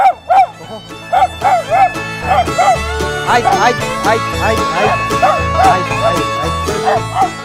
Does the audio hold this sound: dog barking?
yes